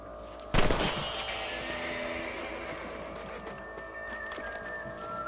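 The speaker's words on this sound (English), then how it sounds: "You're better at shooting rabbits than outlaws, I see." One sharp, loud gunshot cracks out while hunting rabbits in the Red Dead Redemption video game, then fades into a lingering ringing tail with horse sounds and ambient noise around it.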